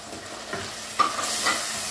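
A tablespoon of cumin seeds sizzles in hot oil in a home kitchen pan, a soft, fairly quiet crackling hiss with a few brief stirring clicks, close up and without talk.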